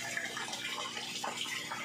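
Water flows steadily from a homemade floating venturi in a backyard tilapia tank, a continuous splashing, gurgling rush heard up close with no talk.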